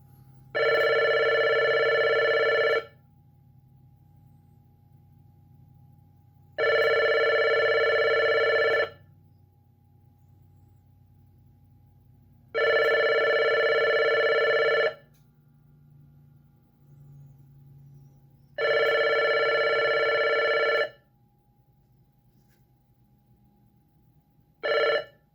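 A Panasonic KX-T2740 telephone rings on line 2 in four loud, evenly spaced electronic bursts of about two seconds each, separated by quiet gaps with a low background hum.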